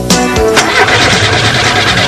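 A carburetted car engine cranks briefly and catches, then settles into a loud, steady running roar close by, with no voices.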